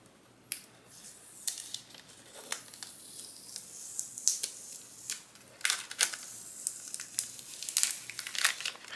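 Crafted vinyl is peeled off a transfer sheet, a run of soft crinkles and sharp plastic crackles in irregular bursts, close and fairly quiet.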